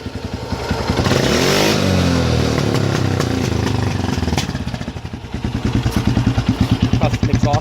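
A Honda TRX400EX ATV engine runs close by, swelling into a revving burst early on before settling into a lumpy, pulsing idle with a rhythmic thump; someone speaks over part of it.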